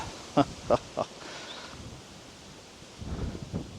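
Wind gusting across an open farm field, a steady rushing noise close to the microphone with a few brief sharp knocks near the start and a louder swell toward the end.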